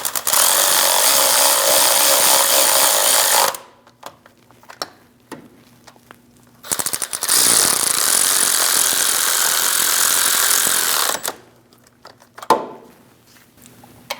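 A power tool snugs down the bolts on a neutral safety switch of a 2001-2006 Chevrolet Silverado 2500 HD, running in two long, loud, close bursts of buzzing whir with quieter gaps of clicks and handling between them.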